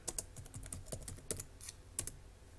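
Typing on a computer keyboard, a quiet, uneven run of close key clicks and taps with no talk.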